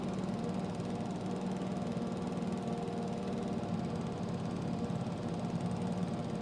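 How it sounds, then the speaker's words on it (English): Zero-turn mower mowing in Farming Simulator 22, a steady droning engine hum that holds constant and fairly close throughout, with no talk. "These zero turns come in pretty handy here."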